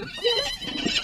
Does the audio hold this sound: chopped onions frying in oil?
no